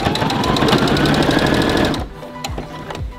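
A sewing machine stitches along the neckline of a dress panel in a fast, loud mechanical chatter for about two seconds, then stops, leaving a few soft clicks and handling taps.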